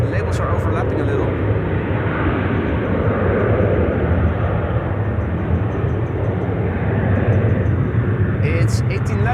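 A continuous broad jet roar from a Transavia airliner at Amsterdam Schiphol Airport holds steady and loud throughout, with a voice talking over it.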